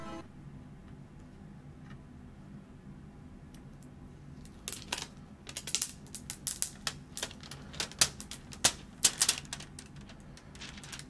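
Protective plastic film being peeled off a GoXLR mixer: after a quiet stretch, a rapid run of crisp ticking, crackling snaps close to the mic as the film lifts away, with no talking.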